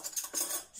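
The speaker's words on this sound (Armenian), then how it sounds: "Որից հետո շարելու ենք դանակ պատառաքաղները" Knives and forks clatter as they are set into a dishwasher's cutlery rack, a quick burst of bright metallic clinks and scrapes up close.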